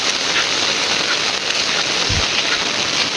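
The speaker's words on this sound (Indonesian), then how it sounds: "ini benar-benar ya hujannya tuh sangat deras sekali dan berkabut" Heavy downpour over a quiet, foggy village, a loud steady wash of rain hitting surfaces, with a brief low thump partway through.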